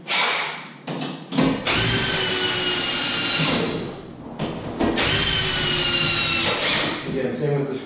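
A power drill drives screws for a TV wall mount in two long, loud whirring bursts with a steady rising whine, separated by short pauses and brief handling clatter.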